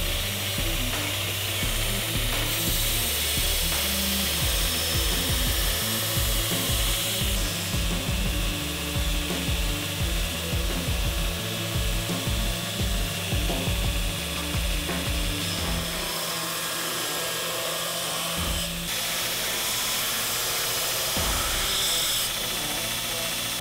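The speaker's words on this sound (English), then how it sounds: "So I'm starting off with a 36 grit belt to do some heavy stock removal." Belt grinder running a coarse 36 grit belt for heavy stock removal on a steel knife blade, a continuous loud grinding roar with a rough rattling texture and small surges, close and steady throughout with no talk.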